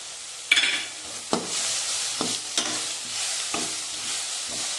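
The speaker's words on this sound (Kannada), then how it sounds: "ಸ್ವಲ್ಪ ಫ್ರೈ ಆಗಲಿಕ್ಕೆ ಬಿಡಬೇಕು ಚೆನ್ನಾಗಿರುತ್ತೆ" Coriander and cumin powder fry in a pan for a raw cashew curry, a soft continuous sizzle broken by several sharp scraping stirs of a spoon against the pan, close and moderately loud.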